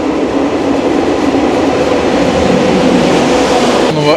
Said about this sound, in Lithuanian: Bullet train. Labai greitis.